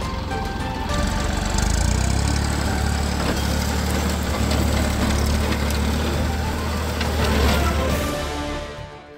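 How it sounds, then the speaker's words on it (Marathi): A tractor pulling a rotavator runs steadily through a dragon fruit orchard, its engine a loud, continuous mid-pitched drone with clattering that holds throughout before easing off near the end. "अंतरवाली सराटीचे सरपंच पांडुरंग तारक यांची मोठी फळबाग नष्ट करण्यात आली आहे."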